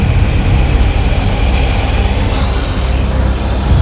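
A Dodge Challenger engine idles while badly overheating, a steady loud low rumble with a constant droning hum and slight vibration, close and continuous.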